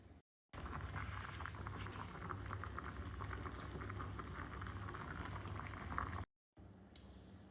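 Water boiling in a pot with cauliflower, a steady, busy bubbling that runs for about six seconds, with short silent breaks at the start and end and no talking.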